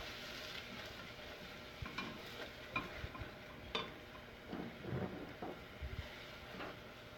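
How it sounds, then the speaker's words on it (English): A spoon stirring food in a pan during a MasterChef Junior cooking challenge, with quiet scraping and clinks at an uneven rhythm over a faint sizzle. "we're going to keep the pan clean by stirring this up"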